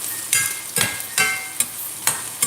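Tomato sizzles and crackles in a hot pan, with several sharp scraping stirs at irregular intervals, close and fairly loud.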